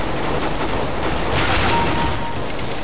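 Pistols fire in Counter-Strike: Global Offensive, a dense, loud, steady stream of shots over a thick noisy game background.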